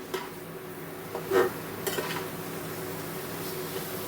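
Besan gatte roast in a pan with vegetables and spices under a low, steady sizzle, punctuated by a few distinct spoon-on-pan clinks and knocks at irregular intervals.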